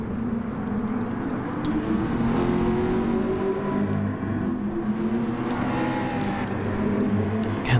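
A Ford GT3 race car's engine revs hard in a sim-racing league sprint at Lago Maggiore, a loud, continuous droning roar whose pitch climbs and shifts with gear changes, with no talking.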